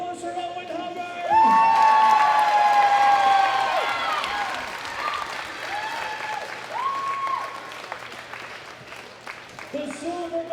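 Loud applause and cheering from a powerlifting championship crowd for a bronze medalist, with whoops rising over the clapping. Music with sustained tones plays throughout, and the clapping peaks early, then slowly fades.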